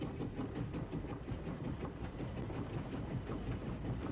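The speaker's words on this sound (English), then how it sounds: "The rhythmic clatter of wheels on the tracks" Train wheels rumble and clatter along the rails in a continuous low, dense roar with a faint rhythmic clickety-clack, heard as if from inside the carriage at moderate volume.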